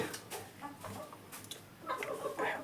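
Hens on a small egg-laying poultry farm cluck in short, scattered bursts, fairly close and moderately loud, with a louder flurry of clucking near the end.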